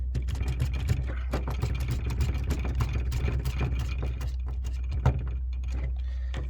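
A screwdriver fitted with a PH2 bit drives screws into a GRP enclosure, giving a steady run of close, rapid mechanical clicks and ratcheting over a low constant hum, with no voices.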